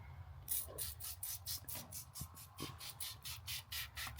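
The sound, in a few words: spraying vinyl protectant from spray bottle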